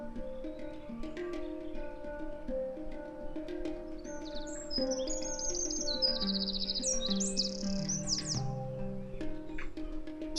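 Birds chirping at sunrise: a cluster of quick, bright tweets rises mid-clip and flutters for a few seconds over a steady, sustained tonal hum that runs throughout.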